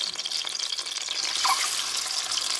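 Eggs fry in hot oil with green chillies, giving a steady, close sizzle that crackles throughout and swells briefly about halfway through, with no voices.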